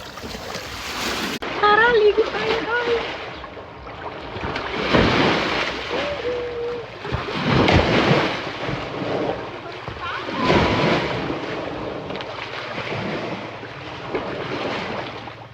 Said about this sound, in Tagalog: maglublog tayo sa dagat habang high tide pa